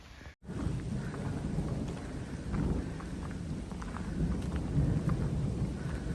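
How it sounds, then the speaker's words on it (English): Steady heavy rain on the Appalachian Trail, hissing and pattering throughout, with a low rumble of thunder underneath and no voices. "the rain's going."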